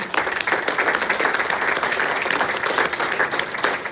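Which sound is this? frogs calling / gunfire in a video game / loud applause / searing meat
loud applause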